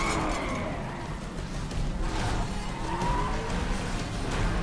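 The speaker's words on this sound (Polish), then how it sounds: "Teraz nareszcie możemy pierwszy raz poprowadzić autko w grze. I to jest Audi RS4" Audi RS4 driving in the racing game Need for Speed The Run, a steady engine roar with tires screeching and skidding across the whole stretch, loud and close with no talk.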